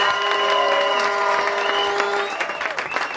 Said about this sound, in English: Let us lift up our hands unto God and give him a mighty hand clap.